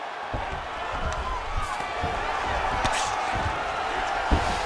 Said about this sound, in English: the crowd pops in appreciation as the fighters work their way back to the field